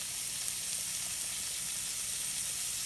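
Mushrooms cook in a pan, giving off a continuous, even sizzle and hiss close at hand. The level stays fairly quiet and steady throughout, and no one speaks.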